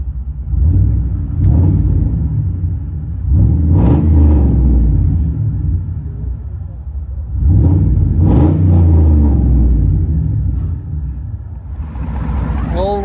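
Interior view of a car exhaust with the X-pipe deleted and 6-inch tips: deep, booming rumble surges twice as the engine revs, settling back to a steady drone between pulls, with a brief whir near the end.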